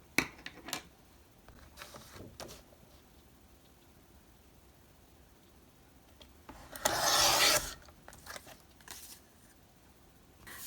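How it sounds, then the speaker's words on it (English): Scissors or a trimmer cut a strip off cardstock at a score mark, a close dry rasping cut of about a second amid quieter rustling and handling of paper. "cut the entire strip off at the top that is at the 3/4 inch score mark"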